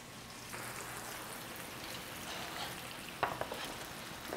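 Minced beef rib patties, Korean tteokgalbi, sizzle steadily in a hot pan with a soft crackling hiss, fairly quiet and close, punctuated near the end by a brief clink.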